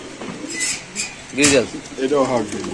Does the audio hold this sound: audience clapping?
no